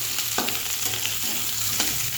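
Food frying in oil until it turns reddish-brown, a dense, continuous sizzle heard close up, with a few faint stirring scrapes and no voices.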